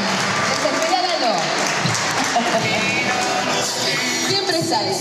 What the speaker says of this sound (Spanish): Aplausos para Marta.